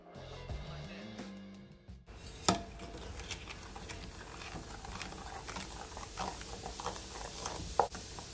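Jerk Coca-Cola chicken wings being stirred in a pot, with scraping and clinking of a utensil against the pot over a soft bubbling patter, plus a couple of sharper knocks.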